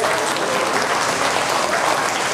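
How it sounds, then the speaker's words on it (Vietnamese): A big round of applause rises from the audience at a veterans' charity music program for a young girl singer, dense, loud and steady throughout with no talk. "xin quý vị một tràng pháo tay thật lớn cho bé Mê Linh"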